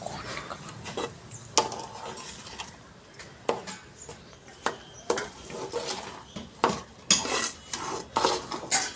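Sugar tipped into a pan and stirred for a festive sweet, with a scatter of scraping, clinking spoon-on-metal knocks and a few sharper taps, close and fairly busy throughout.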